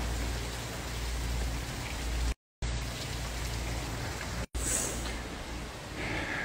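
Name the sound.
heavy rain falling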